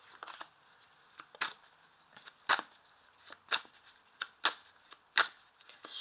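Oracle cards are shuffled by hand, a series of crisp riffling and slapping bursts that come in irregular clusters, close and clear with no talk.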